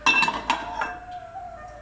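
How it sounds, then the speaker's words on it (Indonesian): Metal spoon clinking against a cooking pot while banana and pumpkin kolak is stirred, a few sharp scrapes and taps close by in the first second, then a faint lingering ring. "Kita aduk-aduk."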